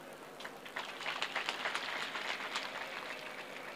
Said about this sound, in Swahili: Nipate makofi.